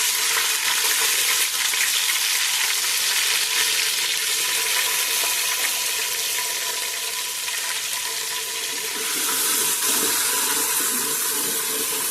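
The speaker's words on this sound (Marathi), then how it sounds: "तर आता आपलं कांदा मस्तपैकी भाजलेलो आहे." Onion frying with ginger-garlic paste for a crab curry, a loud, continuous, close sizzle with a watery bubbling texture and occasional stirring, no talk over it.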